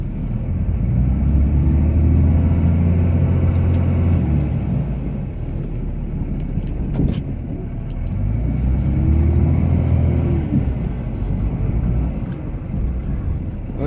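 A Cummins Ram pickup truck's diesel engine rumbles deep and loud while plowing snow, rising and falling in two long revving swells with occasional knocks from the truck bouncing.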